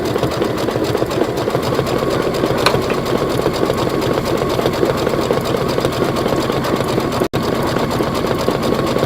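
An embroidery machine stitches out a Kimberbell design with a steady, fast mechanical chatter that runs unbroken and fairly loud throughout, with only a brief dropout near the end.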